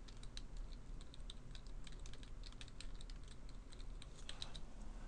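Someone types a password on a computer keyboard, a quiet, quick run of irregular key clicks heard close up with no talking.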